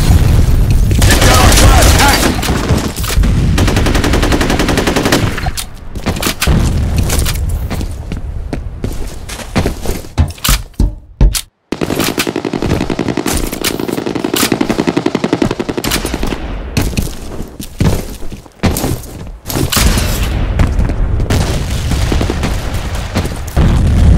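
Heavy gunfire in a combat video game, sustained machine-gun bursts and booming shots filling most of the stretch, with a brief pause near the middle before loud firing resumes.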